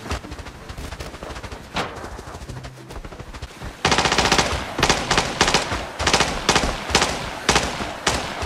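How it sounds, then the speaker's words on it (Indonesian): Loud automatic gunfire in a battle royale shooter game, with bursts of rapid shots growing denser and louder after a short lull, sharp repeated cracks dominating throughout. "Lagi nembakin dia."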